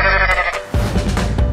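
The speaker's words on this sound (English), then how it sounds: "goat," A goat gives one loud, close bleat that wavers and trails off, followed by a short burst of noisy, clattering sound.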